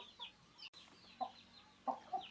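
Chickens, including a rooster, cluck in short scattered calls inside a coop, faint and fairly close against a quiet background.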